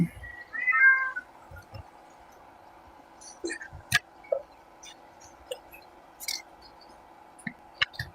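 A cat gives a short clear meow near the start, followed by sparse clicks, taps and light handling noises in a quiet room.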